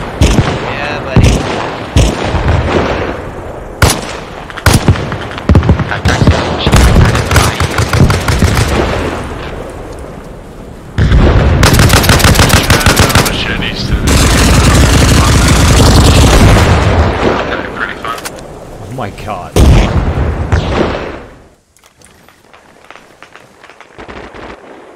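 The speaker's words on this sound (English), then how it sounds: "Oh, it's artillery." Artillery blasts and bursts of gunfire in the Arma Reforger Vietnam 1967 mod, loud and continuous, with a heavy sustained barrage in the middle and a voice talking over the shooting.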